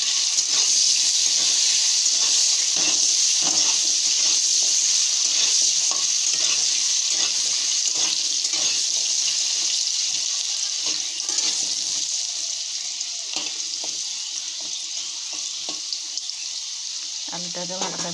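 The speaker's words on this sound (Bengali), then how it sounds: "আলুটাকে ভালো করে ভেজে নিব।" Diced potatoes seasoned with salt and turmeric sizzle steadily in hot oil in a pan, while a utensil scrapes and stirs them in irregular taps. The frying hiss softens slightly toward the end.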